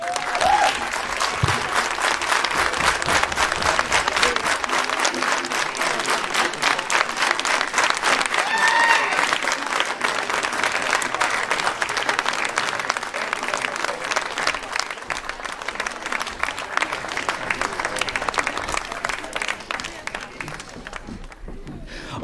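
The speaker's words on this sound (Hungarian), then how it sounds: "Hatalmas tapsot neki!" Outdoor crowd at a Hungarian harvest festival giving long, loud, rhythmic applause after a folk dance performance, sustained clapping with a few voices mixed in, fading slightly at the end.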